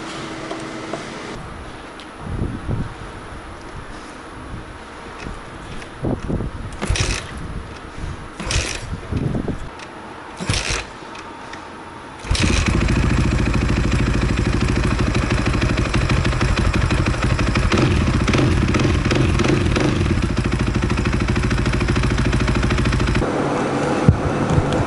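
A KTM 530 motorcycle engine with a suspect fuel pump first sputters and coughs unevenly with clattering, then catches and runs at a steady, loud, close roar before a final blip, with no talking.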